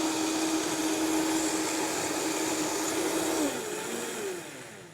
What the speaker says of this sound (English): always start your blender on low,